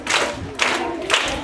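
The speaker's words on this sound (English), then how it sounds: "So, I can clap my hands" Children clapping their hands in unison at a primary school in Eswatini, three loud bursts of claps spaced about half a second apart, with crowd noise around them.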